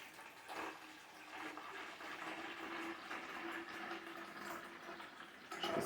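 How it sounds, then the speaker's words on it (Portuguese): Water runs steadily into a larger container for a home mixing experiment, a continuous, faint splashing and gurgling stream with no pauses throughout. "Vou colocar aqui a água."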